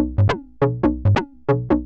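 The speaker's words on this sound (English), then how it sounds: "You can hear the glide in between the notes," A short synth sequence at 138 BPM plays staccato notes, with the pitch gliding smoothly from one note to the next, clean and alone in a quick repeating pattern.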